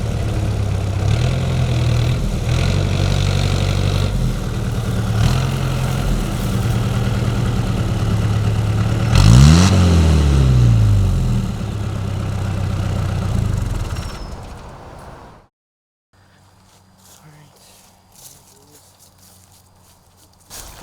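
A 1988 Jeep XJ Cherokee engine, a cold-started restoration project with almost no brakes, idles with a steady low rumble, swells in a single rev, then shuts off, leaving near silence.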